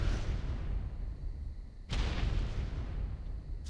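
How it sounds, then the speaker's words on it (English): Grenades bursting against a skyscraper in a video game: a steady low rumble of blasts with a sharp new explosion near the middle, dense and loud, with no talking. "his grenades aren't damaging the skyscraper"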